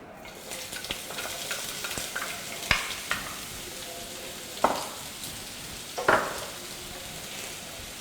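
Onion fries in hot oil with a soft crackling sizzle, and a spoon knocks and scrapes against the pot a few times. No one talks.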